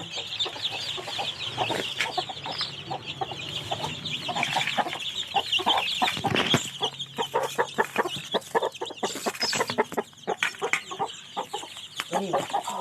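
A flock of chickens being fed clucks continuously nearby, busy overlapping calls with soft scratching and pecking noises.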